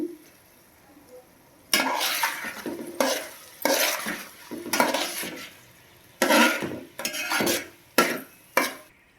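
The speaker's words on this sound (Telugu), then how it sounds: "చూసారు కదా కారం అయితే యాడ్ చేసుకొని మొత్తం కలిపేసుకున్నాం" Okra and tomato curry being stirred in a pan after chili powder is added, with bursts of scraping and clattering from a spoon against the pan separated by quiet pauses and a faint sizzle underneath.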